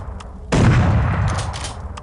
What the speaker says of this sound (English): we are given our first gun, a pump action shotgun